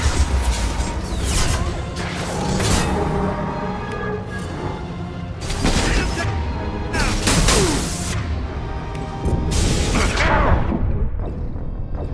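Video game gunfire comes in loud bursts of shots and booms spread across the clip with quieter gaps between, under clanks and mechanical effects, with some speech mixed in.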